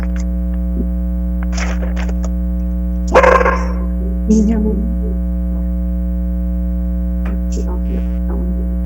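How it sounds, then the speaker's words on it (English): A dog barks twice in the background of a virtual city council meeting, the barks muffled and mid-distance over a strong steady electrical hum, with faint other noises around them. "Can you hear my dog's bark?"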